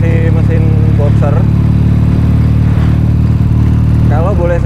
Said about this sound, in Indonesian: Motor ini 2 silinder dengan stroke 78 mili, itu seharusnya getarannya cukup keras, tapi berkat konfigurasi mesin boxer,